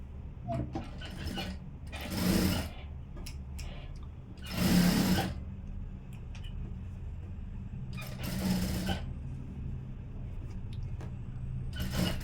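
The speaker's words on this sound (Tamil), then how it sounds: "லைனிங்கில் வந்து இப்படி ஓரமாக தையல் போட்டுக்கிறேன்" A sewing machine stitching along the edge of a blouse lining, running in three bursts of rapid mechanical whirring and clatter separated by quieter pauses with small clicks, close and moderately loud.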